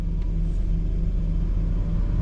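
A car engine idles steadily while warming up on a cold Canadian day, a low continuous rumble with a faint regular pulse. It stays close and alone, with no talk.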